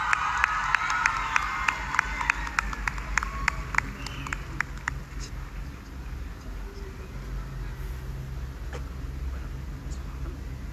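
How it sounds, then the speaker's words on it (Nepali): A crowd at a Nepali music event claps and cheers as the chief guest arrives, with a burst of sharp claps and whistles early on that settles into a broad, sustained roar of cheering. "एकचोटि जोरदार ताली र सम्मान हाम्रो प्रमुख अतिथिज्यूलाई"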